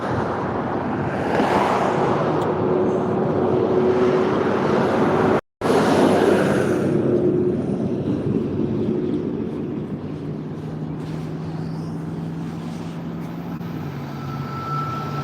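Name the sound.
train coming down the tracks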